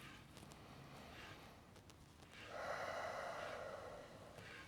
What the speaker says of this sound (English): take 2 more deep breaths in through the nose